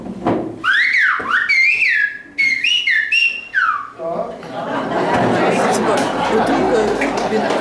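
Silbo Gomero, the whistled language of La Gomera in the Canary Islands: a loud, close run of pitched whistles that rise, fall and hold in phrase-like bursts for about four seconds, followed by broadband murmur and chatter.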